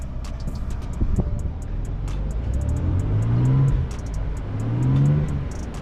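A Ford Ranger Raptor pickup engine rumbles low and steady, with two gentle rises in revs to 2,000 rpm, close by and fairly quiet.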